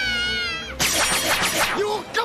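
A sea cat creature from the One Piece anime gives a long drawn-out meow, then a burst of loud, harsh, shrill cries follows, close and dominant.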